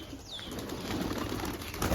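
A newly arrived pigeon beats its wings in a soft, papery flutter that runs through the moment at low volume, with a brief thin whistling sweep early on.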